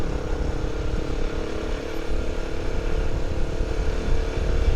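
A 2016 Zongshen RX3 EFI motorcycle engine hums and revs steadily nearby during a test ride, with a rough, continuous drone that stays fairly even throughout, no talking.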